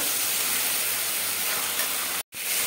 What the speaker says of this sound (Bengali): এখানে চিকেনটা আমার কষানো হচ্ছে